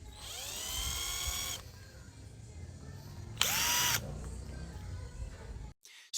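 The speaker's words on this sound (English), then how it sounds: "I'll save some time with these Allen key manual twisting and I'll put it in my electric drill" Two short bursts of a handheld electric drill spinning an Allen key, the first about a second and a half long, the second shorter and louder, separated by quiet room sound.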